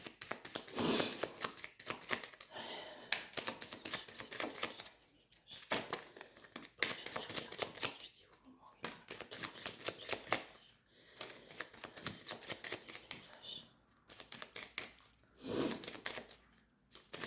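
A deck of playing cards is cut and shuffled during a board or card game, giving repeated crisp riffling and crinkling bursts with short pauses, close to the microphone and without talk.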